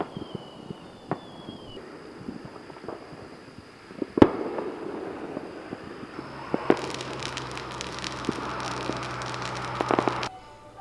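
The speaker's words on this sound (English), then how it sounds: "that's a lot of money on fireworks" Fireworks going off in the distance during a North Carolina celebration night, scattered faint pops and crackles early on, then a denser, louder stretch of rapid crackling bursts toward the end.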